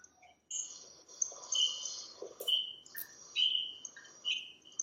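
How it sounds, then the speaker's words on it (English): Faint, high-pitched electronic chirps and tweets in irregular bursts, sounding almost like a bird, continuing for several seconds with no talking. "What's that noise? It's just the computer. I thought it was a bird or something."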